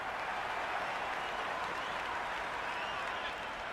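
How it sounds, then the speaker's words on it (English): Cricket 26 video game stadium crowd applauding and cheering a boundary in a 2007 Australia versus England match, a loud, dense, sustained wash of clapping and roar that stays steady throughout, with no talk over it. "Will you listen to that crowd?"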